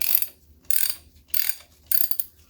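A ratchet wrench clicks in four quick bursts, each a rapid run of pawl clicks in a steady rhythm, close and clear, as it works the harmonic balancer bolt on a Pontiac V8 engine during teardown. No voices.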